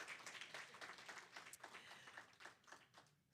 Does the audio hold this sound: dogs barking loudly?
no